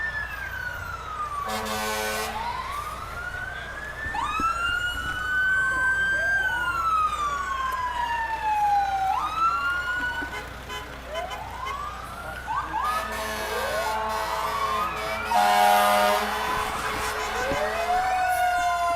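Several police and fire truck sirens wail and sweep up and down together, with loud blasts of air horns breaking in twice, steady traffic rumble underneath, at a St. Patrick's Day parade.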